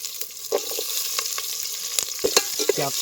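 Onion and whole spices fry in oil in a pot for chicken biryani cooked outdoors among hills. A bright, close sizzle runs throughout, punctuated by several sharp metallic scrapes and clinks of stirring, with no voices.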